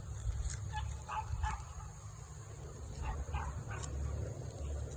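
A small dog gives short high yips and whimpery barks in bursts outdoors, fairly faint, over a low rumbling background.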